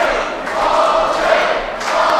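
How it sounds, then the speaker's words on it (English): Wrestling arena crowd roaring and cheering, a sustained wash of many voices that swells and dips throughout. "Listen to the crowd."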